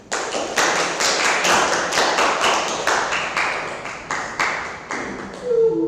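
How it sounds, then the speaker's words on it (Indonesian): Audience clapping in a classroom training session after a group presentation, a steady run of sharp, close handclaps lasting several seconds before tapering off. "Beri tepuk tangan"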